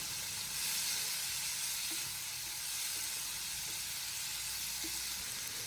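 Tomatoes, onion and garlic sautéing in a pan for tomato chutney, a soft, steady sizzle and hiss close by with a few faint stirring taps, no voices.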